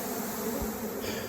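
Honey bees drone steadily during a hive removal from a church, a dense, continuous buzz from a close swarm with no talking.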